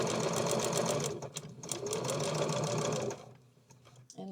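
A sewing machine runs steadily, stitching a log cabin quilt block, with a continuous close mechanical whir for about three seconds before it stops and quiet handling sounds follow.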